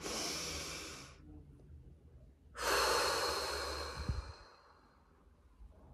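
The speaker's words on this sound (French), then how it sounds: "on prend une dernière respiration ensemble." Two long, deep breaths during a relaxation exercise, a slow hissing inhale and a fuller exhale separated by a pause, close and unaccompanied by talk.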